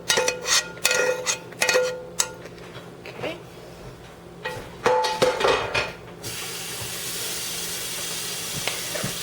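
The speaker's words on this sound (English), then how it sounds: "to stir this and incorporate everything together" Spoon scraping and clinking against a bowl while stirring sausage cornbread batter with onions, a run of sharp taps and scrapes in bursts, followed by a steady hiss.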